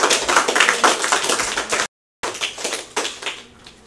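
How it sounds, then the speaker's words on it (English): Congregation clapping hands in a church service, a dense burst of claps that drops out briefly to silence and resumes with scattered, irregular claps. "Let's give the Lord a hand clap."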